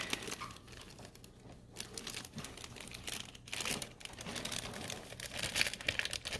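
Gift wrapping paper being crinkled and torn open up close, a busy run of rustles, crumples and rips that continues without pause.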